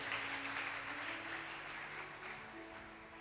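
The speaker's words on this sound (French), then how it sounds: "Aplausos ao Senhor." A church congregation applauds in a steady wash of massed clapping that fills a large room, fading slightly toward the end, with no speech over it.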